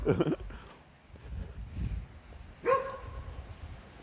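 A dog barks in two sharp, separate bursts, one at the start and one near the end, with quiet shuffling and low room noise in between.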